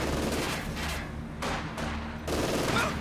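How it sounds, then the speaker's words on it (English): Bursts of gunfire from the Company of Heroes 2 battlefield come in rapid volleys, pausing briefly between them, loud and dense against a low rumbling background. "Those Schweinhunde are shooting at us!"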